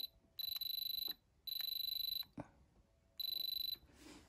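A diamond tester beeps in three long, loud electronic tones separated by short gaps, with a brief knock between them and faint handling noise at the end.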